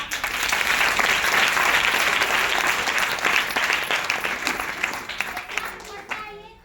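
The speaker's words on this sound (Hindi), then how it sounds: "जोरदार ताली।" Loud audience applause at a talk about the benefits of tea, a dense burst of many hands clapping that holds strong, then tapers off near the end as a voice begins.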